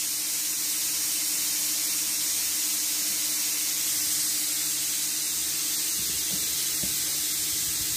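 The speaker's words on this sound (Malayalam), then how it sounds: "ആ കുക്കറിൻ്റെ ശബ്ദം കേട്ടായിരുന്നു" A pressure cooker cooking pet food lets out a loud, steady hiss of escaping steam that holds unbroken and close for several seconds, with faint thuds near the end and no speech.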